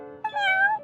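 A short, clear meow from a cat in a video game, one rising and falling call under a second long.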